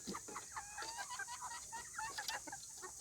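Chickens cluck softly and repeatedly nearby, a quiet, steady chorus of short calls with no talking.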